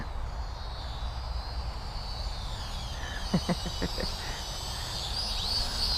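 A small toy flying car's motor at full throttle, a thin, steady high-pitched whine heard from some distance outdoors, with a short burst of faint clicks partway through.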